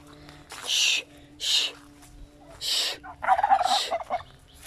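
A fowl in a backyard garden lets out a series of loud, near, gobbling calls in four or five bursts separated by short pauses, with no talk over them.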